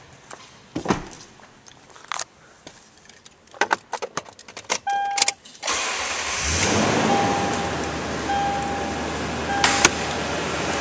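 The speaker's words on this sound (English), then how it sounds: "And now we'll start up this vehicle." A 2010 Toyota Tundra SR5 4WD double cab: keys jangle and click, then the engine cranks and catches around midway, settling into a steady, close idle.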